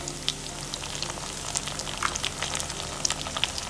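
Onions and green chillies sizzling in oil in a pan for chicken biryani, a steady close frying hiss with scattered small pops and crackles and no talking.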